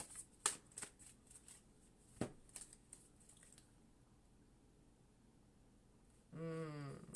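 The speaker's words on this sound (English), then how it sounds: "I'm just going to pull one more card here." Tarot cards shuffled and drawn, with a string of soft, quick card snaps and flicks early on, a quiet pause, then a longer riffling burst near the end.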